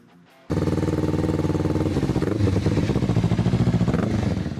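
A Kawasaki Ninja 300 with a 296cc parallel-twin engine starts abruptly and then runs loud and close, a steady throbbing idle that rises into revving, with no voices.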